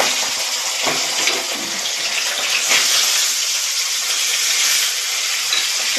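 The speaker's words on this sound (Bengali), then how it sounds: "এবার আমি মাছগুলোকে ভেজে তুলে নেব এক এক করে।" Fish frying one by one in hot oil in a kadai, a loud close, continuous sizzling hiss that swells now and then as the oil spits.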